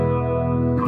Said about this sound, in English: Which kind of has a bit of kind of tremolo weirdness and a little bit of reverb and all that sort of stuff.